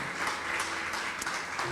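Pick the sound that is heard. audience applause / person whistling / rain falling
audience applause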